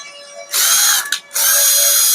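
A power screwdriver backs out the screws holding a table fan's grille, giving two loud whirring bursts separated by a short pause.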